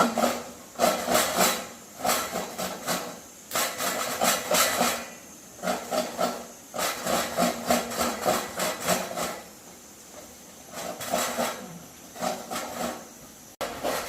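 A knife slices an onion lengthwise on a board in quick rhythmic bursts of rasping cuts, close and crisp, pausing briefly between runs of strokes.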